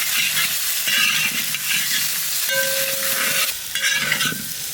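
Ginger and garlic paste frying in hot oil in a pan for mutton and potato pulao, a loud continuous sizzle broken by repeated spatula stirs and scrapes, close up, with no voices.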